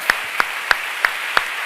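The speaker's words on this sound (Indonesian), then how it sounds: "Berikan tepuk tangan buat Tuhan" A church congregation claps for God during a worship gathering, steady crowd applause with a few sharper rhythmic claps spaced about a third of a second apart, no voices over it.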